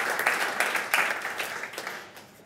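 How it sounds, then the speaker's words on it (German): Audience applause at a corporate dialogue event in Upper Austria, a close, steady patter of clapping hands that gradually fades toward the end. "darf Sie auch natürlich gerne wieder mit einem Applaus verabschieden"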